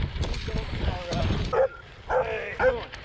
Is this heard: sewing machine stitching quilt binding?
no